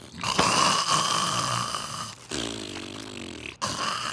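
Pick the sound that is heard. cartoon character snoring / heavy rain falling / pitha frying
cartoon character snoring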